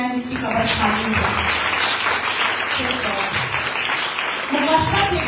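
A church congregation claps together during a Sunday Urdu sermon, the broadband applause running steadily throughout with a speaking voice and murmurs mixed in.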